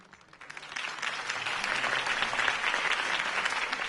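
A crowd applauding steadily after a campaign speech in the video game Batman: The Telltale Series, the clapping swelling in from a softer start and holding at a full, even level throughout.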